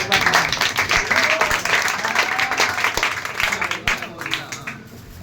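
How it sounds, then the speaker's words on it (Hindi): Students clapping for a teacher's day gift in a classroom, a dense, continuous patter of many hands with voices mixed in underneath. "एक बार तुम लोगों को इस गिफ्ट के लिए ताली जरूर बजाना चाहिए"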